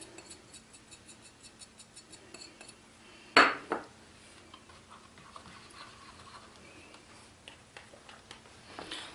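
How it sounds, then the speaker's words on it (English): Sour cream and baking soda mixed in a bowl: a spoon taps and scrapes the sides in a quick, light, regular rhythm, with one sharp louder clack partway through, close and fairly quiet. "So you mix the sour cream and the 1 teaspoon of baking soda together"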